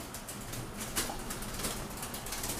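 Young pigeons brought in from a storehouse, soft coos and faint wing flutters over a quiet room hiss, close but low in level, no voices.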